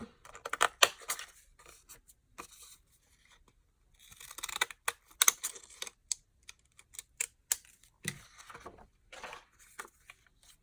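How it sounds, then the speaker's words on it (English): Scissors snip jaggedly around a vintage Valentine greeting card front with roses on it, making quick, close, irregular cutting clicks and paper crunches in bursts with short pauses. "I just am going to jaggedy cut out this pretty little greeting card, vintage."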